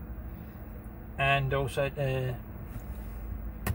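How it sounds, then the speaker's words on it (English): A vent fan cooling the battery chargers on a solar generator camping trailer hums steadily in the background throughout, with someone talking briefly over it. "the noise you can hear is the vent fan, which is on the side to keep the battery chargers cool"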